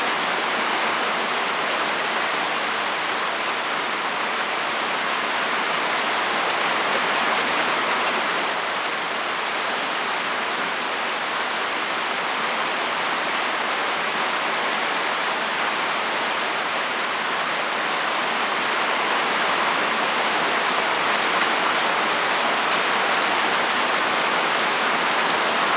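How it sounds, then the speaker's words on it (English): Heavy rain pours steadily and loudly for the whole stretch, a dense even hiss of drops on surfaces during a severe thunderstorm warning, with no voices. "it immediately starts raining hard again?"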